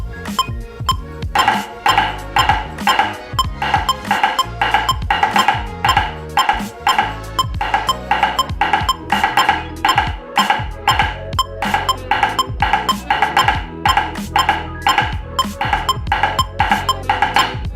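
Drum kit playing a 16th-note 2's exercise split onto the bass drum, a steady driving stream of even hits with cymbal wash over punchy low kicks, loud and continuous with no talking.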